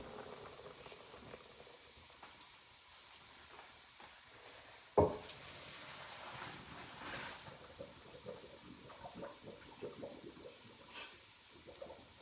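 Pasta water poured from a pot into a strainer in a home kitchen, a quiet trickling and splashing with a sharp clank near the start, followed by soft patter and small knocks.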